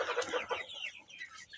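Young chickens, a Kuchi and Barkovsky crossbreed, clucking close by in a short, faint burst of several quick calls.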